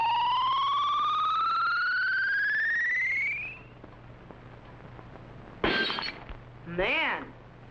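A rising electronic ultrasonic whine stops, followed by a sharp crash of a glass jug breaking and a second brittle shattering burst moments later.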